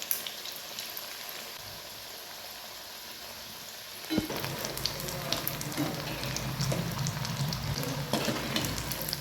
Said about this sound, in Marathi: अगदी खरपूस असे तळून घ्यायचे.